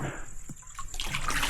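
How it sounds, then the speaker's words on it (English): Water from a hose pipe pours into a fire-heated bathtub, a steady close rushing and splashing stream that grows louder and fuller partway through. "filling this tub here at the moment"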